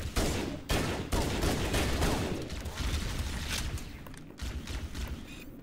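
Rapid gunfire in the Halo Anniversary video game, a dense continuous barrage of shots and bursts lasting throughout, loud and close, with no voices over it.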